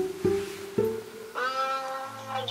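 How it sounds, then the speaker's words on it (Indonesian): A cat meows close by, four distinct meows in a row, the later ones longer and more drawn out, with no talking over them. "Lagi main sama kucing."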